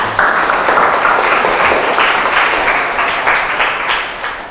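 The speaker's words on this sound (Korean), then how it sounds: "그럼 박수로 강연 들어보도록 하겠습니다" Audience at a Seoul university science lecture applauding to welcome the speaker, dense steady clapping from many hands that tapers slightly toward the end.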